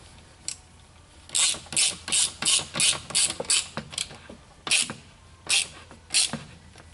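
A ratchet wrench clicks rapidly in close bursts while bolts are spun into the throttle body of a 2007 Mini Cooper S R56, about a dozen short ratcheting runs with brief pauses, no talk.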